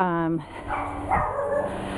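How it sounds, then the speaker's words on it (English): Dogs at a home's front door give a short bark as someone comes in, followed by a person talking nearby. "you'll hear the dogs barking because they're like, who is that at the front door coming in?"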